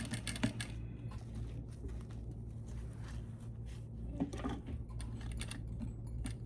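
A sewing machine runs quietly in short bursts stitching an invisible zipper on a pillow, with light rapid ticking and a few louder clicks over a low hum.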